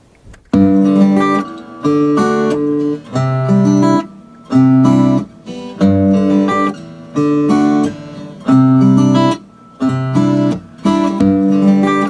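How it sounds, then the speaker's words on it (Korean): A guitar plays a repeating melodic theme in short rhythmic phrases with brief pauses between them, clear and close. "이 기타 테마를 먼저 제 이제 기타로 먼저 이렇게 쳐보면서 이 느낌이 좋다"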